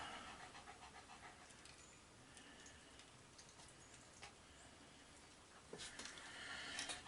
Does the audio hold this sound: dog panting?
yes